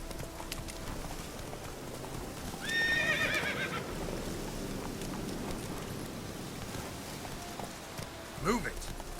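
A horse in The Witcher 3 neighs loudly mid-gallop and again near the end, its hooves clip-clopping steadily on the ground beneath, while a man urges it on.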